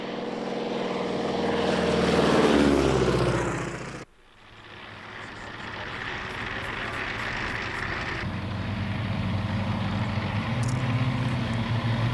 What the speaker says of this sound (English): a pair of Macchi jets controlled by a forward operator